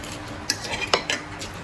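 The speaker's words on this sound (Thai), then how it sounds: "เราหั่นกระเทียมนี่เลยจ้ะ" A few sharp knife taps on a board as garlic is chopped, irregular and close, with light clinks of utensils between them.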